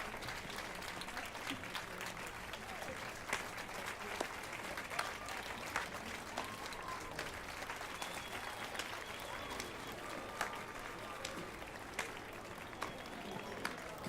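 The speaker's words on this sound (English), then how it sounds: "That's not how clapping would sound if you're wearing thick leather gloves." Steady applause from a large crowd in the video game Witcher 3, a dense wash of clapping that holds at an even level throughout without pause.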